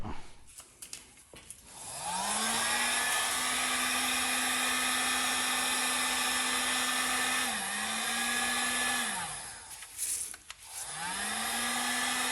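A heat blower runs loudly and close, warming the front fork reflectors on a Harley Davidson Street Glide, its whine rising as it spins up, holding steady, briefly dipping, then shutting off and spinning back up near the end.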